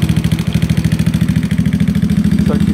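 A GY6 scooter engine idles up close, its steady, rapid, even pulsing thrum running unbroken with a light mechanical clatter on top.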